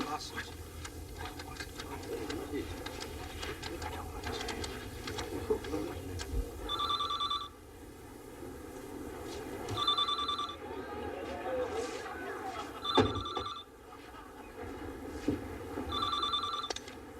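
A telephone bell rings in four short bursts, evenly spaced across the scene, sounding over continuous dramatic background music and voices.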